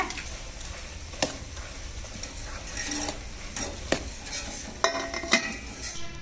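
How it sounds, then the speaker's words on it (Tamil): Boondi for laddu frying in oil and then tossed in sugar syrup, with a soft sizzle under scattered clinks and scrapes of a spoon against the pan. "பூந்தி பொறிக்க பொறிக்க இந்த மாதிரி சர்க்கரை பாகில் போட்டு போட்டு நம்ம பெரட்டி விட்டுக்கலாங்க"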